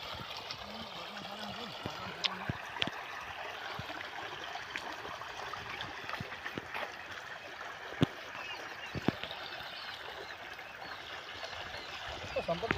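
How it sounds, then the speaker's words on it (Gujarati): Irrigation water flowing steadily into a mustard field, a soft continuous trickling and gurgling stream heard outdoors, with people talking intermittently over it and occasional handling knocks. "પાણી ચાલુ રાયડામાં?"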